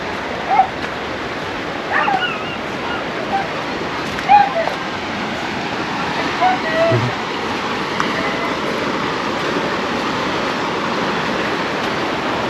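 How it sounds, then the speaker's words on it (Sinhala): A small canal swollen into a river by Cyclone Ditwa rushes steadily past a flooded vegetable plot, a broad continuous wash of flowing water with brief dog barks and faint voices over it. "මේ පොඩි ඇලක් තමයි ගඟක් වෙලා තින්නේ"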